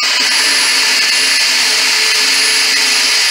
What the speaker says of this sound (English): This is how I drill my shelf holes.